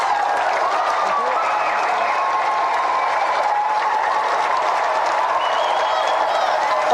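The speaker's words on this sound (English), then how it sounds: "another round of applause for Tommy Edme and Ian Wright." Loud, sustained applause from a large television studio audience, a dense wash of clapping that holds steady from start to finish.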